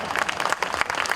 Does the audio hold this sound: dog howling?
no